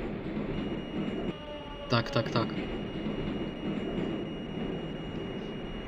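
A metro train runs in the Moscow Metro Simulator 2D video game, producing a steady, loud rolling rumble with a brief cluster of sharper bursts midway, while someone speaks over it.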